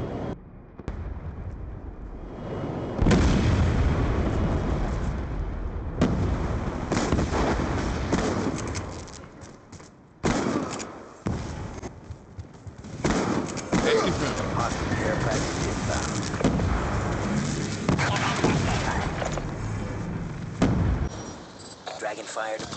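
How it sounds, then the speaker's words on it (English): Hellstorm missile strikes in Black Ops 2 multiplayer: a dense, sustained barrage of booming explosions and crackling blasts rolls on for many seconds, loud and continuous with brief lulls, under occasional game voice callouts. "Hellstorm missile inbound."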